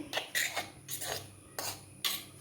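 A spoon scrapes and stirs a radish and bitter gourd stir-fry in a pan, four or five distinct scraping strokes at a steady pace, close and fairly quiet, with no talk.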